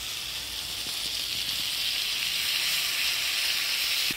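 Ground paste of green chili and cumin hits hot oil in a pan for a Bengali village-style fish curry, giving a steady, loud, close sizzle that holds unbroken throughout with no voices.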